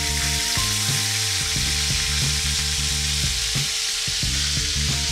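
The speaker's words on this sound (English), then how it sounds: "Gonna cook the other side to about the same time, about the same crispiness" Burgers fry in a pot, turned after cooking to matching crispiness, giving a loud, steady sizzle throughout with repeated clanks and scrapes of a utensil stirring against the pot.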